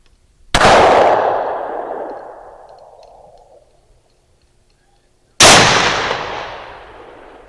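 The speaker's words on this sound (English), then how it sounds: "let's see how Superman's kryptonite shoots in his 450 Bushmaster" Two loud, close rifle shots from a Ruger American Gen 2 in 450 Bushmaster at an outdoor range, each a sharp blast with a long rolling echo, spaced about five seconds apart.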